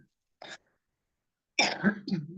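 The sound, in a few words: cough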